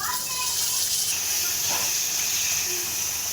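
Masala spices of cumin and coriander powder with chopped tomato sizzle and fry in a pan, a steady broadband hiss close by that continues without a break.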